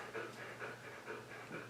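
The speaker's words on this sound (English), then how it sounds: "You can probably hear my dog panting in the background." A dog pants steadily in a quiet studio, with soft, rapid breaths in an even rhythm close to the microphone and no voices.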